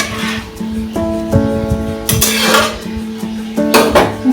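A utensil stirs garam masala into a pot of fish curry with potol, making loud clanks and scrapes of metal on the pot with ringing tones, in irregular strokes close by.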